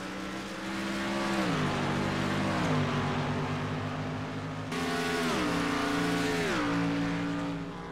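Race cars running at the New Hampshire NRL 125 race, including a number 12 Chevy Camaro, with loud, sustained engine roar rising and falling through gear changes as cars pass close by.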